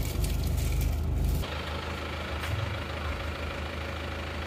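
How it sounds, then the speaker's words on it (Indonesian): A warm car engine idles with a steady low rumble, running smoothly. A brief louder burst fades at the start, and the engine settles into an even, continuous hum after that. "Mobil ini kita bawa pulang, itu kalau semakin panas malah halus suaranya."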